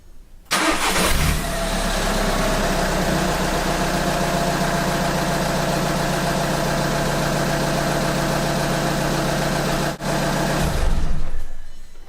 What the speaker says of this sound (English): the last thing to do is start it up, and if everything is perfect, it should start up without hesitation